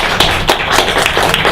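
A short burst of audience applause at an evening gathering of the Peace Café, dense overlapping claps heard close and steady without any talking.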